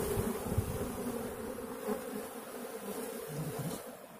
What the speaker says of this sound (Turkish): rahatlığıyla arı silkeleyelim